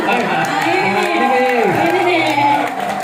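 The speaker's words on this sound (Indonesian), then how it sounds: "Kita kasih tepuk tangan." Audience clapping and cheering in a studio-style talk show, loud and continuous with whoops and shouts rising over the applause, and a voice speaking through it.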